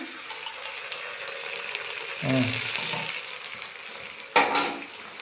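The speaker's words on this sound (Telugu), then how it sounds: "దీంట్లో కొంచెం చిల్లీ సాస్ 2 స్పూన్లు వేస్తున్నా" A wok of village-style gobi frying with chili sauce spooned in, giving a steady sizzle with a couple of sharp clinks of spoon against pan and a louder splash-like burst near the end.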